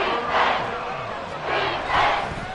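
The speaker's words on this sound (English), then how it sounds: "This crowd turning up the decibel level." A football stadium crowd at a Rams vs Texans game roars in loud, swelling waves, a dense wall of cheering voices that rises and falls twice over a few seconds.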